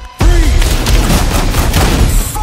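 Gunfire in the cop-drama shooter Battlefield Hardline: a loud, dense burst of close shots and booming impacts that keeps up without letup, with no talk over it.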